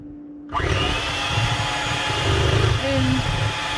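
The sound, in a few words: blender running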